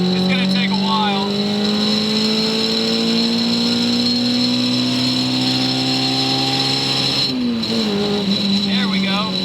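The K24-swapped Mazda Miata's engine climbs steadily in pitch under sustained throttle inside the car, briefly dropping at a gear change before rising again, loud and continuous with a voice talking over it.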